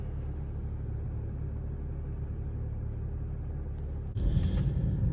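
Low, steady engine rumble from a BMW 335i with the N54 engine heard from inside while driving, constant drone that gets rougher and louder near the end.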